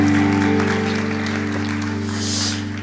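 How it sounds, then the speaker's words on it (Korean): Congregation applause during a church young adults' Sunday worship service, an even wash of clapping over sustained organ or keyboard chords, holding steady before easing off at the end. "감사의 박수 하겠습니다."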